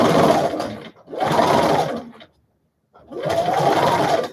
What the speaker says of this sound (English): Keep sewing. And go slow.